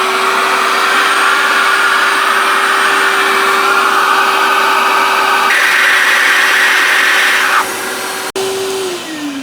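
A Giraffe Tools retractable vacuum cleaner runs loud and close with a steady motor whine and rushing airflow, its pitch shifting midway, then it cuts out and winds down at the end.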